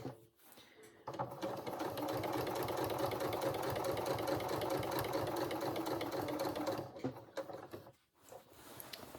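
A sewing machine under-stitches the binding on a dress in one long, continuous run of quiet, steady mechanical whirring, starting and stopping with brief softer pauses at each end.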